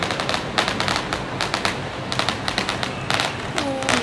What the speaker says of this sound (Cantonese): 有人喺度玩緊㗎，煙火啊，零零碎碎嘅煙火啊